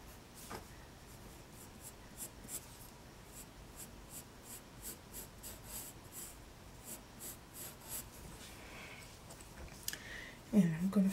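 A pencil scratches across paper in quick, repeated strokes while a face is sketched, with a soft, steady rhythm close by and a brief louder rustle near the end.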